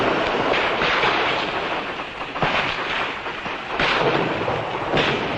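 A Biafran homemade rocket firing, a loud, rumbling roar with surging bursts of noise that swell and fade, heavy and close with wind buffeting.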